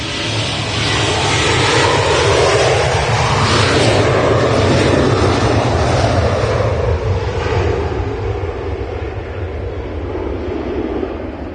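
A plane passes at Manchester Airport during windy Storm Otto, a loud, broad engine roar that swells and sweeps past with a shifting pitch, heavily mixed with wind buffeting the microphone throughout.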